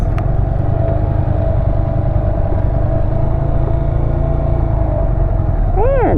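A Honda Grom motorcycle idles with a steady low engine drone throughout, pulling away under close wind noise, with a rising rev tone near the end.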